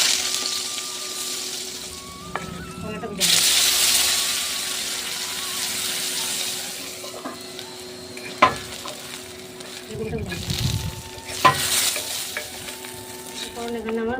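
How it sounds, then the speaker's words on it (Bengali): Vegetables frying in a pan for Bengali shukto, a steady sizzle broken by spoon stirs and clinks against the pan, with a brief burst of louder hiss partway through. "এখানে আমার ভাজা হয়ে গেছে"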